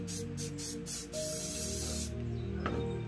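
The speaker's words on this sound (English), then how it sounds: "Now I'm gonna spray some black down here in the corner." Spray paint can hissing out black paint for spray paint planet art, a steady close hiss lasting about two seconds over a low background hum, then stopping.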